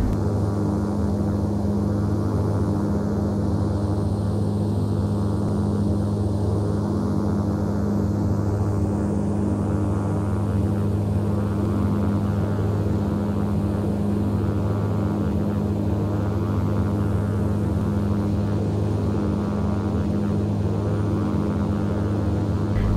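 Steady, loud drone of a Dash 8 Q400 turboprop airliner on a UK domestic flight, a continuous engine and propeller hum with strong low tones and no break for the whole stretch, with no voices.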